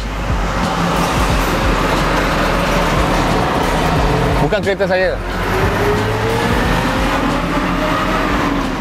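Traffic noise floods in through the open window of a Rolls-Royce Cullinan SUV at a toll plaza, a loud steady rumble of passing vehicles with a brief whooshing swell midway, while someone talks over it.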